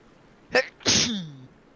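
One close, loud sneeze: a quick sharp intake followed by an explosive burst, alone in near silence.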